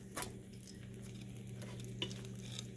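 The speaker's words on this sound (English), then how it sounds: "I'm also grilling my bread and I'm using one of those pans that's going to leave the marks on it." Bread toasting in a ridged grill pan that leaves grill marks, giving a steady low sizzle and faint crackle with a couple of soft utensil clicks nearby, no talking.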